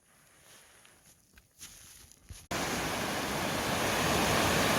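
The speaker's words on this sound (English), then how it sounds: "We stopped to filter some water here at the stream. A little waterfall there." Stream with a small waterfall on a snowy Appalachian Trail section, heard as a steady, loud broadband rush of falling water that starts abruptly and continues, after quieter moments with faint footsteps.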